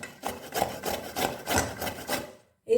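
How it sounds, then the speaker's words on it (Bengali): Carrots rubbed down a grater by hand in a home kitchen, making a series of about six rhythmic rasping strokes, close and fairly loud, ending in a brief pause. "এইভাবে মিহি করে সমস্ত গাজরগুলো আমি ঘষে নেব।"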